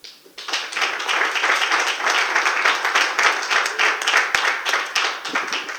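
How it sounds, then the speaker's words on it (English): Sustained audience applause, a dense wash of many hands clapping steadily for several seconds, loud and close, with no talking. "We're gonna keep that applause going."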